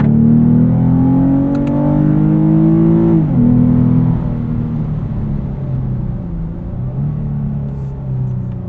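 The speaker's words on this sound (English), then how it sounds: "Got some auto rev match downshifting happening there." Lexus IS 350 F Sport V6 engine in sport mode, heard from inside as it rev-matches on downshifts: a loud, steady engine drone with a quick pitch blip around the gear change, then settling into a lower rumble.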